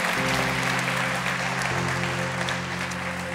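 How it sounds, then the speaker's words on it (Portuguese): A church congregation claps steadily for a few seconds, broad dense applause heard alongside sustained organ or keyboard tones. "Pode aplaudir a Jesus."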